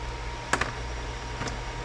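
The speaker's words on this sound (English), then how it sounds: "we are gonna wanna smash the delete button on our keyboard when this thing's firing up to get into the BIOS" A computer keyboard's delete key is tapped repeatedly while a newly built crypto mining rig boots up, giving a few quick, faint clicks over a steady low hum.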